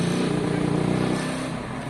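A Honda CB200 motorcycle pulls away as the clutch is let out. The engine drones loud and close with a steady pulsing note, then eases off slightly as the bike moves away.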